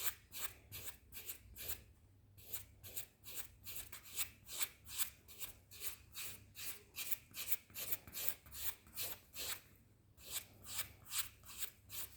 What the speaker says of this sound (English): use the coarser side of the file to bring down any hard skin